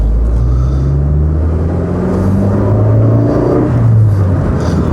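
A Rover 416 Tourer engine accelerating, a loud close rumbling drone with the pitch rising through the revs and dropping at a gear change, heard alone with no talk.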